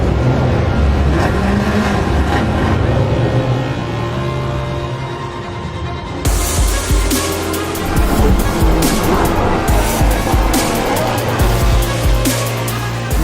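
Camaro Z28 race car at Daytona International Speedway, a loud, sustained engine roar that swells in intensity partway through, with dense mechanical noise and no talk.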